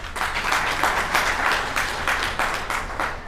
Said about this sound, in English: A round of applause for OPA.